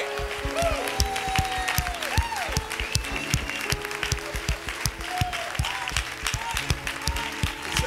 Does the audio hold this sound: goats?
no